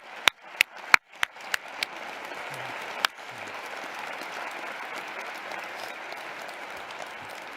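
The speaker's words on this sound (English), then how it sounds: "Let's give them another round of applause" Applause for student musicians at a university presidential installation ceremony: a few sharp, separate claps at first, then a sustained, even round of clapping from the audience.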